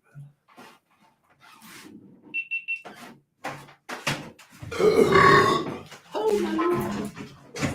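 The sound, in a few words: burp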